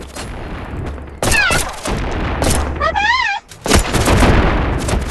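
Bursts of gunfire from new guns in the VR game Animal Company, sharp repeated shots in quick clusters with squeaky, chirping game effects in between.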